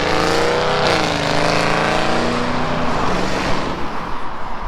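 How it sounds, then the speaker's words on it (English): A Ford Mustang engine revs loudly near a hotel at the end of a block, a sustained roaring drone that climbs in pitch and then settles into a rough rumble, loud and close. "Mustang making all that noise and ain't went nowhere."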